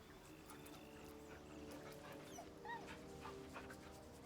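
A dog in a video game gets petted and scratched, giving soft whimpers and little yips over a low game background hum, fairly quiet throughout.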